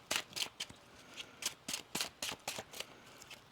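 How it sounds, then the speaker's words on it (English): Tarot cards being shuffled by hand, a quick series of about a dozen crisp riffling bursts in an uneven rhythm, close and quiet. "One more shuffle."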